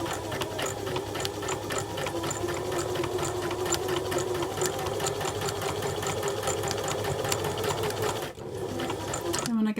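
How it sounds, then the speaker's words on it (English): A domestic sewing machine runs continuously at a long stitch length, sewing the first part of a seam for a centred zip insertion, with a close, steady whirring and rapid needle rhythm that pauses briefly near the end. "I'm going to take this over to the machine and stitch the first part."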